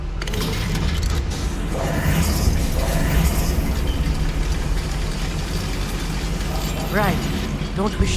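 A goblin mine lift in Hogwarts Legacy grinds and ratchets as a steady mechanical drone, with a few clanks and squeaks near the end.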